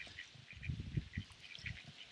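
Ducks being fed broken-up jelly beans: soft quacks and low nasal calls from a few birds, with faint pecking and bustle, heard at a distance and quiet.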